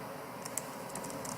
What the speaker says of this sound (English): then you type in the URL link